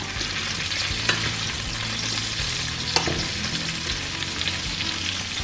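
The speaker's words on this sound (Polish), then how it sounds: "I one teraz tutaj nam się będą obsmażać razem z chorizo" Loud, continuous sizzling of asparagus and chorizo frying in a hot pan, with occasional crackles and pops, no voices.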